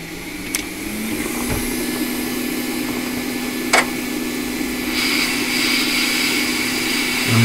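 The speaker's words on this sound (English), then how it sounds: "I'm just going to ride this hot gun, the heat, right there on the connector." A hot air gun blows steadily and close by, heating the display connector on a 2017 12-inch Retina MacBook board, a continuous loud whooshing hum with a faint tone and a couple of small clicks.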